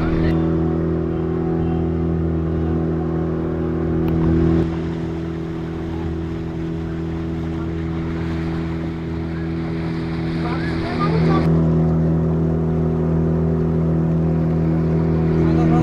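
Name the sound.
motorboat ride at Goa Dolphin Point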